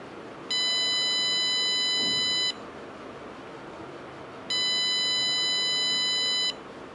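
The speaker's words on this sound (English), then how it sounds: "you will get continuous beeping from the remote controller" Two long, steady electronic beeps, each about two seconds, from the remote finder of a Hisense 50A6H 4K TV remote, separated by a short pause, ringing clearly over a faint background hiss.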